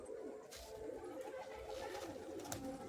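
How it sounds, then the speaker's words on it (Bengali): Pakistani-breed pigeons in a loft give low, soft coos that run steadily through the whole clip, close by and at an even level, with a few faint higher bird sounds and no talk over them. "এটা পাকিস্তানি ব্রিডের পায়রা আছে"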